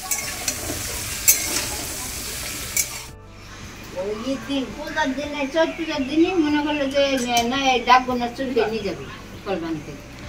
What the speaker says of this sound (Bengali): আর এবার কুমড়োগুলো দিয়ে দিচ্ছি, সেই সাথে ডাটাগুলো দিয়ে দিলাম, লবণ দিয়ে দিলাম।